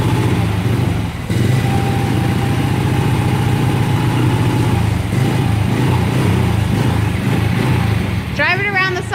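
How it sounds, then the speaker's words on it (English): A 600 micro sprint race car engine idles loud and close with the choke on, a steady throbbing rumble that holds throughout, with a brief voice-like sound rising near the end. "Drive it around the side, Jeremy, to warm it up"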